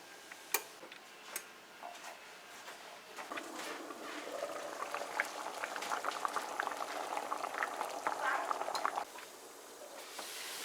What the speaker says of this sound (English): So we're gonna boil this some more.